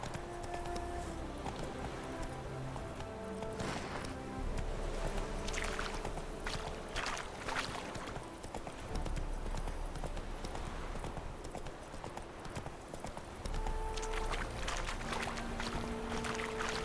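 Roach the horse gallops in The Witcher 3 game, hoofbeats clip-clopping steadily beneath dense game music and ambient sound, with a few brief bursts of noise layered over the rhythm.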